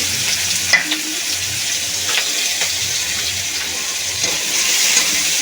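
Chopped onion hits hot oil with whole cumin, cardamom and cinnamon, giving a close, steady sizzle with occasional stirring scrapes and small pops, and no one speaks.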